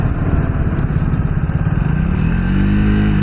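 A Triumph Speed 400 motorcycle engine drones steadily while riding, loud and close, with the pitch climbing slightly toward the end as it accelerates.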